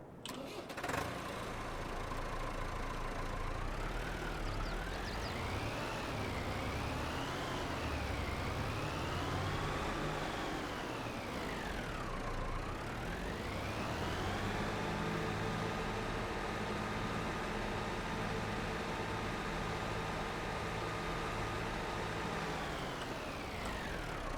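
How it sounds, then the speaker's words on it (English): Massey Ferguson 698 Turbo tractor engine in Farming Simulator 22, starting up and then revving up and down in long sweeping rises and falls over a steady diesel rumble, close and continuous. "we'll just pop into our big 600 here, the 698 Turbo, and I'll show you the sound"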